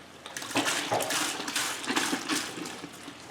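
CLR cleaner is poured into a car heater core, giving a close, steady splashing and gurgling of liquid that swells and eases in small surges for a few seconds.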